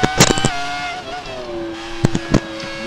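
High-revving Formula 1 car engine in the racing game F1 2018, a steady whining harmonic tone that slides in pitch across the clip, with brief louder bursts near the start and two sharp spikes toward the end.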